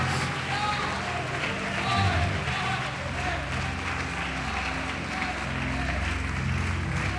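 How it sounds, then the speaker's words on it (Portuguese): Continuous applause from a church congregation fills a reverberant hall, a thick, even roar of clapping with low rumble and faint voices underneath. "Pode aplaudir, glorificar."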